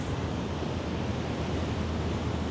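Ocean waves washing onto a beach form a steady, continuous roar of surf, broad and even throughout with no talking.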